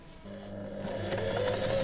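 A sewing machine runs a straight edge stitch along the folded-open seam of a pocket on pants fabric, a steady mechanical whir with a low motor hum that builds after a brief start and holds close and continuous.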